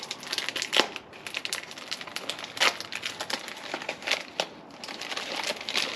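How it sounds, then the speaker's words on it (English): Bubble-wrapped packaging is unwrapped up close, giving irregular crinkling and crackling of plastic with occasional sharper rustles and tears. "packaging, bubble wrapped. These were bubble wrapped as well."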